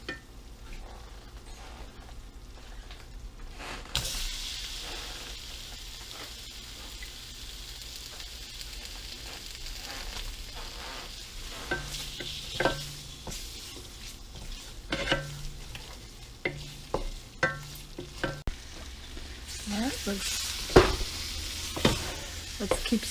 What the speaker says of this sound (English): start throwing in the meat because it'll allow the cubes to brown a little bit with all that butter in there